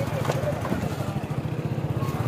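Motorcycle riding along a road, its steady mid-pitched engine drone running continuously underneath someone talking close to the microphone.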